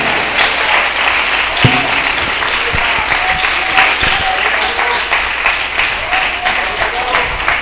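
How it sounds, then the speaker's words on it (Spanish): Loud, sustained applause from a large church congregation at an evangelical service fills the space evenly, with scattered cheers and voices mixed in. "Denle un aplauso fuerte al Señor"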